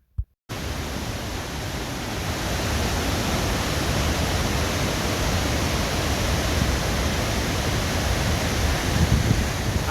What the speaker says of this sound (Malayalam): അങ്ങനെ നമ്മളെത്തിയത് വാഴച്ചാൽ വാട്ടർഫാൾസിൻ്റെ അടുത്തെത്തിയിട്ടുണ്ട്